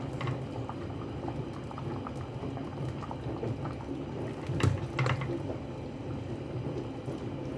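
Steady bubbling of a pot of pork knuckle sinigang soup with string beans at a rolling boil, a dense, continuous patter of small pops with one slightly louder burst partway through.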